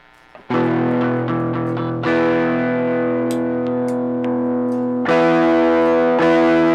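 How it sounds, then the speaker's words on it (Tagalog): Electric guitar on a humbucker pickup driven through an RJ Tone Master Deluxe pedal with strong overdrive, ringing distorted chords and single notes that sustain heavily, with new strums hitting loud at intervals. "Try natin sa mas matapang na overdrive."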